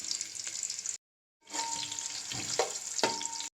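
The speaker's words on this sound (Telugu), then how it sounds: "మనం ఆనియన్స్ ఫ్రై చేస్తున్నాము ఇవి బిర్యానీలో బ్రౌన్ ఆనియన్స్" Onions frying in oil for a vegetable dum biryani, a steady bright sizzle that breaks off briefly and then resumes, with a few soft stirring knocks near the pan.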